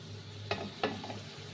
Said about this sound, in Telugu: కాసేపు గరిటతో అలా తలబెట్టుకొని కొంచెం నూనెలో వేపుకోవాలి